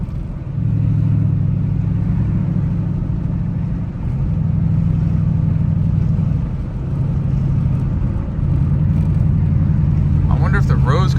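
Dodge Challenger SRT8 with a straight-pipe exhaust driving in manual, a loud steady low engine drone held through several gear stretches with brief dips between shifts, close and continuous.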